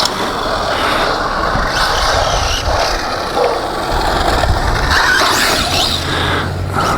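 A DHK Optimus XL 1:8 scale 4x4 RC truck running and jumping curbs outdoors, its motor whining steadily and loudly close by with rough wheel noise over pavement, no talking.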